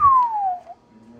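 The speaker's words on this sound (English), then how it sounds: "You want me to whistle one more time?" A person gives a single short whistle that slides smoothly downward in pitch, clear and close, followed by quiet.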